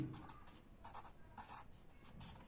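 Faint scratchy strokes of writing on a board during a classroom science lesson, short irregular scrapes and taps close by, with no talking.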